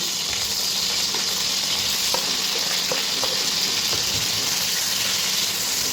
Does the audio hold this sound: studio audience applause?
no